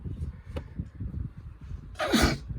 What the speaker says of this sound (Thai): จามจังเลย